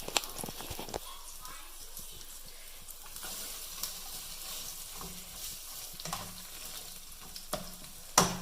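Onions fry in a pan while rice is stirred nearby, a steady soft sizzle with scraping and clacking stirs, sharper knocks near the start and end, and a voice talking faintly underneath.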